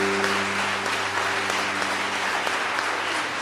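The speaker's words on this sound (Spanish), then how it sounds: "Dale un aplauso al Señor más fuerte." Congregation applause during a church testimony, a loud continuous roar of clapping with a steady low hum running underneath throughout.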